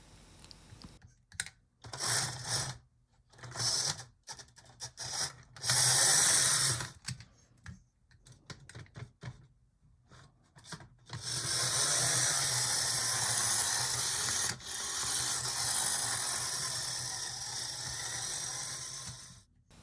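A model train locomotive runs on track, a mechanical whirring and gear ratcheting that starts and stops in bursts, then holds a steadier run near the end with a brief squeal.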